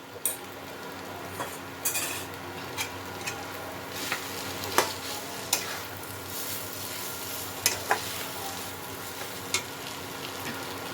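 Boiled potato being mixed into spices in a pan for aloo chop, with a steady low sizzle under repeated scraping clinks of a spoon against the pan.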